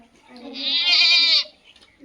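A goat gives a single clear bleat of about one second, close and fairly loud, against near silence in a children's listening exercise.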